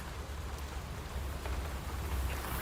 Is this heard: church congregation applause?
no